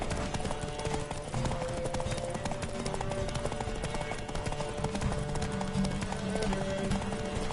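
Galloping horse hooves in The Witcher video game pound in a fast, steady rhythm, loud and close, over a busy background of music and ambient noise.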